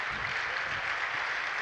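Audience clapping at a Dreamhack Winter 2011 StarCraft tournament match, a brief burst of steady applause heard at a moderate distance.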